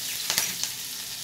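Green chili and curry leaves drop into hot oil for a potato bhaji, setting off a short, bright sizzle with a few sharp crackles and pops close by.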